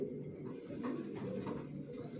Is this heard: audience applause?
no